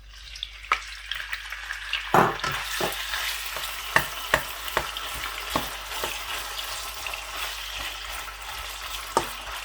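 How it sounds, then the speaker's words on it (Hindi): Chicken pieces going into hot oil over a moderate flame: a continuous close sizzle and crackle broken by sharp spatters and pops as each piece drops in. "माशाल्लाह ऑयल गर्म हो चुका है। सबसे पहले चिकन जो है वो मैं इसमें ऐड कर दूँगा।"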